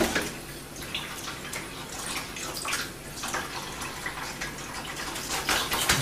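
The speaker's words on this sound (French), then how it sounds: "c'est un perroquet qui prend une douche" A parakeet bathes under running water, which sprays and splashes steadily and close by, with a bright, continuous gushing texture.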